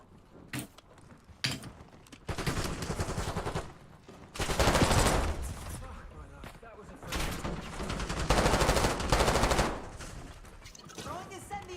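Automatic gunfire rattles in a video game as the trigger is held down, coming in several long, loud bursts separated by short quieter gaps.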